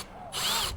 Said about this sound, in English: we can see exactly where we've got to drill our first holes.